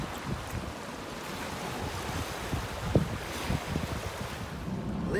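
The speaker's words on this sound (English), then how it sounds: "We're gonna spend a day at the beach." Ocean waves wash onto a beach under steady wind, producing a continuous broad roar with soft surges and some wind buffeting on the microphone.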